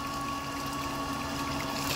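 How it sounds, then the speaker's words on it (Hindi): Electric water pump motor straining against a blocked pipe, a steady unbroken hum with a whining tone and a rushing, watery churn, running alone without voices. "और इसका आवाज भी देखिए मोटर का कितना बढ़ चुका है।"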